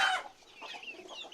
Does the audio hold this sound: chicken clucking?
yes